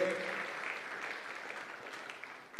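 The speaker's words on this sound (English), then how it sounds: "Big round of applause, ladies and gentlemen, to her for hosting us today." Audience applause for the President of Tanzania at a Merck Foundation summit, a soft, even patter of clapping that holds steadily across the short stretch and sounds somewhat distant.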